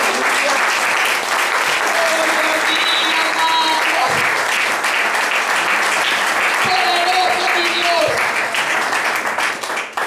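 A church congregation applauds loudly and steadily for about ten seconds, a dense wash of clapping with voices calling out over it before it thins near the end.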